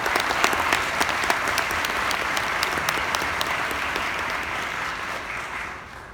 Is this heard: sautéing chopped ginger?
no